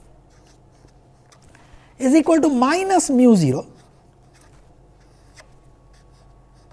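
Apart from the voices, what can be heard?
writing on paper during a lecture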